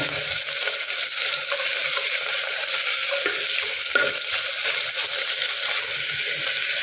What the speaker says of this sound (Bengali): একটু ভেজে নেব, বেশি না, অল্প একটু